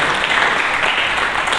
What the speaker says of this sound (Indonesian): Berikan tepuk tangan bagi Yesus, Ibu.